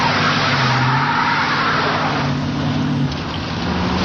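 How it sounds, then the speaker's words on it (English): A suspect car drives by on a road, its engine a loud, steady drone close at hand that eases slightly near the end. "the car came by, matching the description of the suspect vehicle"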